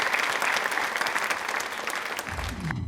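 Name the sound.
audience applause for a guest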